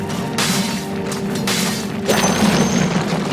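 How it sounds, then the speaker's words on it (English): A tower in the Dota 2 video game is destroyed with a loud, sustained explosive boom and crashing debris over dense game music and effects. "We've destroyed their middle tower."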